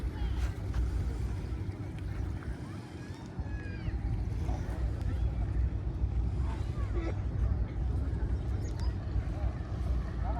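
A passenger launch on the Padma river heading for Faridpur, a low continuous engine rumble mixed with wind and water noise, with scattered faint voices in the background.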